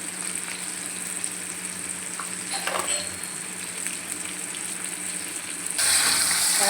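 Tomatoes cook in a pan for an eggplant curry, giving a steady soft sizzle and frying hiss throughout, with a brighter, louder burst near the end.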